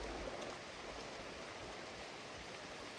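Steady rain pours down outdoors by a creek during fishing, an even, continuous hiss that stays loud and unbroken with no voices.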